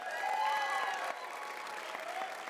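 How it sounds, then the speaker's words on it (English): An audience at a Nevada Young Democrats event gives brief, faint applause, a soft spread of clapping with a few whistles or cheers drifting over it. "Give him a round of applause."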